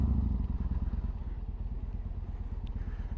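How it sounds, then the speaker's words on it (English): Motorcycle engine running with its exhaust baffles removed, a close, loud, lumpy throb of rapid exhaust pulses with a raucous rough edge, dipping slightly after the opening moment and then holding steady. "taking out the exhaust baffles, but you feel like it does because it's so much more raucous"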